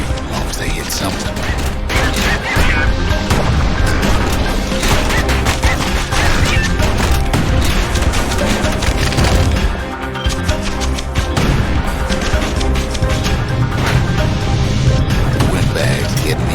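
Security skiffs fire on a ship in the video game Bastion, with loud, continuous bursts of gunfire, crashes and impacts layered under steady music and game noise for the whole stretch.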